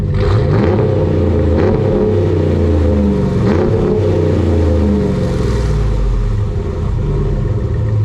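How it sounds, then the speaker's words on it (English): A Ram 1500 Minotaur pickup with side-exit exhaust on both sides revs hard, producing a loud, deep, continuous rumble with several rising surges and no talking over it. "You can also see this sweet side exhaust on both sides, and I will let you guys give a listen to it right now."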